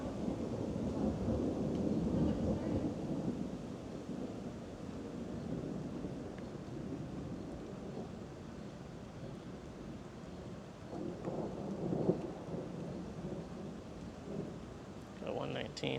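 Steady outdoor rumble of rain and wind buffeting the microphone continues throughout, louder early on and easing slightly, with brief faint knocks and rustles near the end.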